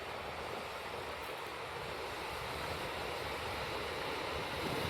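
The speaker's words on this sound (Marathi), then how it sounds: "स्लो स्लो स्लो स्लो पाणी उतरू राहिलं तिथं" Water spilling slowly over Ozarkhed dam makes a steady, broad rushing wash that holds at an even level throughout, with no voices over it.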